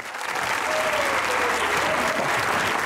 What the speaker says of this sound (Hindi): आपकी भरपूर तालियों में शाह महमूद कुरैशी